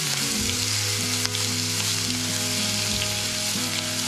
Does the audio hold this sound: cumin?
yes